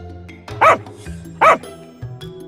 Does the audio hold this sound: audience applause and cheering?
no